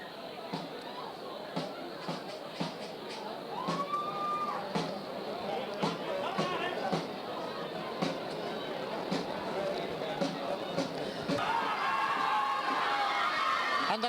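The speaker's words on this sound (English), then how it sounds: "And the crowd already rising to both teams" Crowd at the 1988 Cavan Senior Football Championship final, Gowna v Laragh United: a steady outdoor murmur with scattered sharp claps and knocks, swelling louder near the end as cheering rises.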